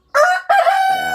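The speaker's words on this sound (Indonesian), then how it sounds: "Karena terdengar ada suara ayam berkokok tadi." A rooster crows loudly and close by, a short rising call followed by a longer sustained cock-a-doodle-doo, heard alone with no voices.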